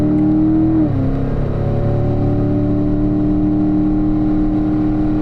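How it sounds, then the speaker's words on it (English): A car accelerating on a track with a steady engine drone, a brief dip in pitch as it upshifts into fourth gear, then a continued close, loud hum. "So we'll upshift, accelerate here, upshift to fourth gear."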